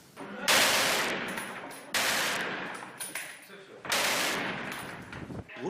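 Vintage machine guns firing at enemy infantry in a fortified position, three loud, long bursts of rapid automatic fire separated by short pauses, close and echoing, with faint voices between bursts.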